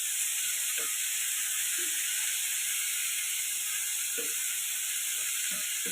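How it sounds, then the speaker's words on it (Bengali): Potatoes dropped into hot oil with fried onions fizz in a steady, dense sizzle that stays even and close, broken by a few faint clicks of a utensil, with no talking. "এবার আমি তেলের মধ্যে আলুগুলো দিয়ে দেবো।"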